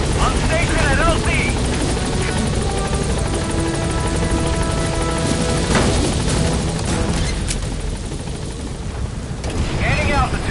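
Helicopter named Pequod setting down at a landing zone in Metal Gear Solid V: The Phantom Pain, a loud, steady rotor roar filling the scene alongside game music, with a brief crash-like burst midway.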